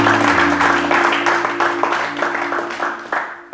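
A church congregation applauds during a sermon, a steady wash of many hands clapping together in a reverberant hall, fading gradually toward the end with a sustained musical tone underneath.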